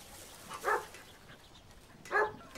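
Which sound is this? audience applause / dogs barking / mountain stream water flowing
dogs barking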